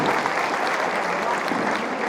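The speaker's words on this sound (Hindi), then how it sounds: "जोरदार तालियों से इसका काम है" Dense, steady applause from an audience at an award ceremony held by a humanitarian society, continuous clapping throughout at an even level with no voices standing out.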